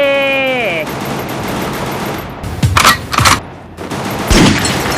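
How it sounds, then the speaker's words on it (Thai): Gunfire in a shooting video game: after a falling electronic tone, sharp close shots crack out in a few separate bursts over constant game noise. "ใครมันมาหลอยยิงเพื่อนผม"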